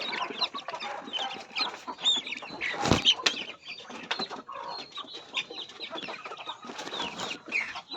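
Pet chicks peep and chirp continuously at close range, with soft clucks and a brief wing flutter mixed in, busy and unbroken throughout.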